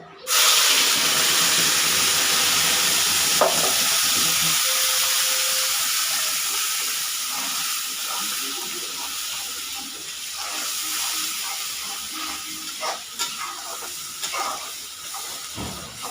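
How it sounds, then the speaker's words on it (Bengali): A loud burst of steamy hiss as mixer-ground spice paste hits a hot pan of chicken with sugar, settling into a continuous sizzling roar with occasional crackles and clinks, no talking. "এবার আমি এই মিক্সারে পিষা মশলাটা দিয়ে দেব।"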